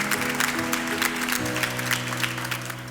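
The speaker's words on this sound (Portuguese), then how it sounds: "Vamos aplaudir a palavra de Deus com força." A church congregation applauds warmly after a scripture reading, a continuous wash of clapping over a sustained musical drone, steady and fairly loud throughout.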